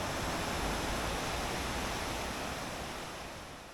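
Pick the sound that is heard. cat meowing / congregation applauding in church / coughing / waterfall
waterfall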